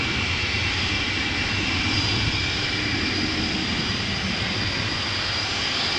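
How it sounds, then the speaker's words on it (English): Cargolux cargo aircraft, a 17-year-old freighter on flight 2616 from Nairobi, at Amsterdam Schiphol Airport; a steady, loud, broadband engine roar with a high whine runs unbroken and close throughout. "Cargolux, flight 2616, we saw it land just now, arrived from Nairobi."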